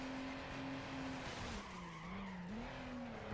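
A car skids on its handbrake in Need For Speed Underground, giving a loud, sustained tire squeal with a wavering pitch over a constant engine roar, with no talk.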